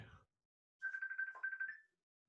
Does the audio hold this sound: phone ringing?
yes